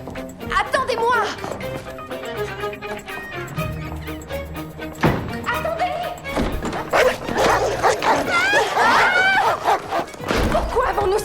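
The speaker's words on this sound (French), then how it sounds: "Pourquoi avons-nous ces gros chiens?" Several large dogs bark repeatedly in a scene from the film Material Girls, loud, close woofs and yips mixed with overlapping human speech.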